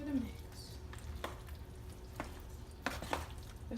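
A spoon stirs a baked mac and cheese mixture in a quiet kitchen, giving soft scraping and sporadic close clicks and taps against the dish over low background noise.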